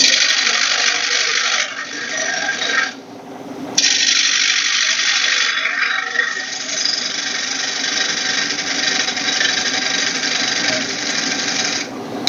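A wood lathe spins a bowl blank while a gouge cuts a tenon, producing a continuous loud hissing shear of steel on wood with brief dips and restarts, close up.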